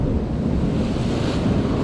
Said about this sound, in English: There's still some canny swells coming through